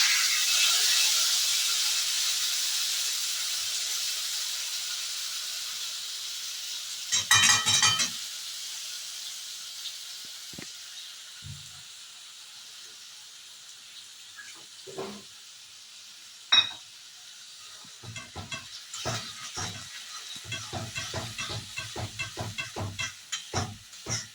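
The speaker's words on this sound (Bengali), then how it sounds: "এবারে এই যে মশলাটা তৈরি করে রেখেছিলাম, আদা, কাঁচা লঙ্কা, চার মগজ আর হলো টমেটো, সেটাকে আমি দিয়ে দেবো।" Ginger, green chili, melon seed and tomato spice paste frying in a pan, a steady soft sizzle with a sharp burst as the paste goes in, then scattered stirring clatters and bubbling pops building toward the end.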